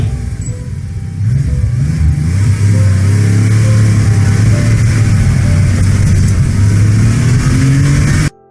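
A car engine in a played video revs hard and climbs through gears, a loud mid-pitched drone that rises, settles and climbs again, with a steady roar until it cuts off abruptly at the end.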